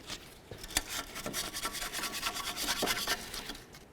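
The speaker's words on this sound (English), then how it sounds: "let's continue on by cleaning up the inside area of the knuckle right here where the strut's going to go" A Volvo S40 steering knuckle is scrubbed clean inside where the strut fits, giving rapid, close, raspy brushing strokes in quick irregular bursts with no talk.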